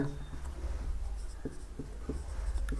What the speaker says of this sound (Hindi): पहले यहाँ पे लिख लेते हैं